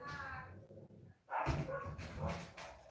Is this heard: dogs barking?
yes